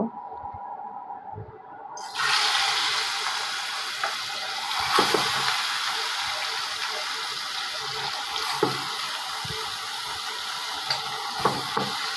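Fish rubbed with salt and turmeric sizzles as it lightly fries in a pan, a steady hissing spatter that jumps up after a quiet start and carries on with occasional pops.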